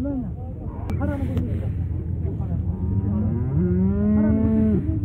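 Cattle moo at a livestock bazaar, with several long, drawn-out lowing calls close by, one rising and holding near the end, over a steady crowd murmur with people talking.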